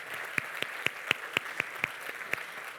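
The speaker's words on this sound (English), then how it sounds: "Round of applause for yours, guys." A small cluster of audience hands claps at a tech conference talk, about ten distinct, fairly sparse claps in a steady rhythm, close and clear with no voices.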